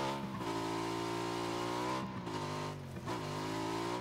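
Engine of a motorbike being ridden in the PUBG video game, a sustained mid-pitched hum with brief dips and shifts in pitch as it changes speed, steady and close throughout.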